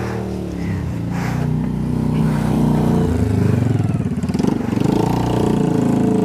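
Motorcycle engine droning steadily nearby in a rural village, a continuous rough idle that builds slightly in loudness and wavers midway, with no talk over it.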